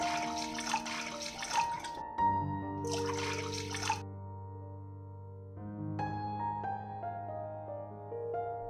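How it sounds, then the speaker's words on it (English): Hot water is poured into a bowl over meat and a sachet of whole spices, heard as two short splashing bursts over soft, steady background music. "Drop the sachet of whole spices and add the hot water."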